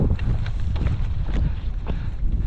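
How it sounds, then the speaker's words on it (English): Chilly wind gusts across Bigelow Mountain on the Appalachian Trail, a loud, constant low rumble buffeting the microphone, with a hiker's footsteps faintly audible beneath it. "But it's definitely windy and it's chilly."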